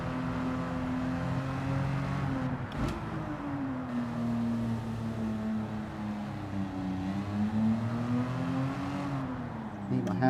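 A Morgan car engine in Gran Turismo 7 drones at a moderate, fairly steady pitch, rising and falling slightly as it revs, with a brief burst near the start, heard fairly faint.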